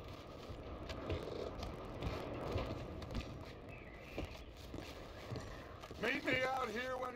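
In Red Dead Redemption 2, horse hooves clip-clop in a loose walking rhythm, with game sounds around them and a voice speaking near the end.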